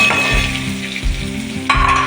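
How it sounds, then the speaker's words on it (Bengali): Onions frying in a pan for a mushroom dish, a loud, close, continuous sizzle with rhythmic stirring strokes and a louder burst near the end, no talking. "পেঁয়াজটা ভাজছি"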